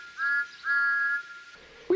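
A toy train engine's whistle gives two short, high peeps, fairly clear and close, followed by a brief quiet pause.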